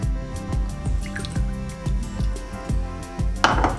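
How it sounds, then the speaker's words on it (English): Milk is poured onto a cracked egg for French toast, giving close, wet dripping and splashing with a loose rhythmic pulse, ending in a brighter splash. "crack your egg open and then add your milk"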